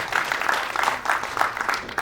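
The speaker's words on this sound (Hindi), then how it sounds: "एक बार जोरदार तालियां for Ritu यार" Steady applause from an audience at a public event in India, a dense continuous wash of clapping with no pauses, moderately loud and close, without speech.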